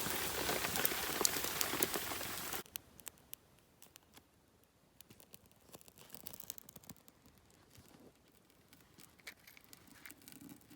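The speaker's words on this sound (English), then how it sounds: "Pouring rain all night long. Still raining." Rain at a campsite, loud and dense at first, then dropping to a quieter, steady patter with irregular drips and ticks.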